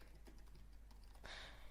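Short burst of typing on a computer keyboard, quiet soft key clicks in a steady rhythm ending in a slightly louder cluster of presses, no speech.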